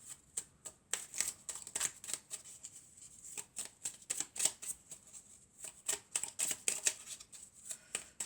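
Oracle cards being shuffled by hand during a card reading, a quick run of crisp riffling flicks in uneven bursts, close and fairly quiet, with no talking.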